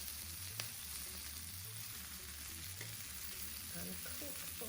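Quartered chestnut mushrooms and large button mushrooms sizzle steadily in a hot pan for a vegetarian bourguignon, a close, even frying hiss with light stirring and no voices.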